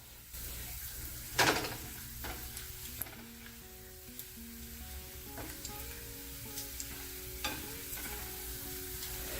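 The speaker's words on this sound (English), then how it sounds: "if you're cooking long pieces of bacon in a larger size pan" Long strips of bacon fry in a larger pan with a steady close sizzle, broken by occasional louder pops and clinks from handling.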